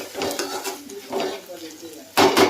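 Food frying in a pan before chicken goes in, with a utensil scraping and stirring in repeated bursts and a louder clatter near the end, no talking.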